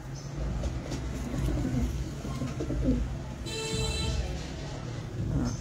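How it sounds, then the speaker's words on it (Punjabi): A Ferozpuri female pigeon coos softly in repeated low calls. A brighter sound, likely a passing train, rises in the background partway through. "ਓਰਿਜਨਲ ਫਿਰੋਜ਼ਪੁਰੀ ਕਬੂਤਰੀ ਹੈ,"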